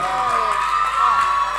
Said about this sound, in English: Please, as she comes onto the stage, can we hear a round of applause?